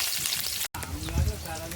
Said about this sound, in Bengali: কড়াইতে তেল গরম হয়ে গেছে, এবার পেঁয়াজ কোচানো দিয়ে দেবো।